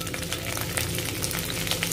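Dry red chilies, cumin seeds, green cardamom and cloves sizzling and crackling in hot oil, a dense, continuous close-up frying hiss with no talking.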